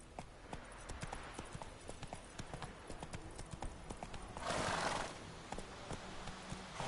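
Roach, the horse in the video game The Witcher 3, gallops with fast, close, loud hoofbeats in a steady rhythm, and a short whinny or snort rises midway through the run.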